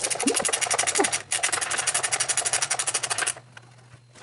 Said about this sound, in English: this is where it's nice to have a ratcheting wrench like this